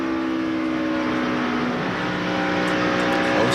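NASCAR stock cars race around the track at the 2002 Tropicana 400, a loud, continuous engine roar with shifting whining tones as cars pass close by. There is no speech during this moment.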